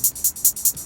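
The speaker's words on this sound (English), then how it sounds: "So I have this first hi-hat" Four crisp, bright hi-hat hits in an even rhythm, close and fairly loud, with nothing else playing underneath.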